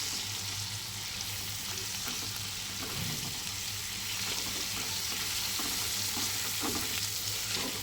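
Spices with turmeric stir-fried in a pan for a rohu fish and cauliflower curry, a continuous even sizzle with faint scraping, steady and close without talk.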